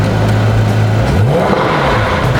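A sports car engine starts with its exhaust valve opened, firing into a loud, close blip that sweeps up and settles into a rumbling idle, with no voices over it.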